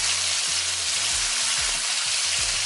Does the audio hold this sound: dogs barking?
no